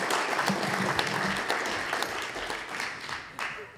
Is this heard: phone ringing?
no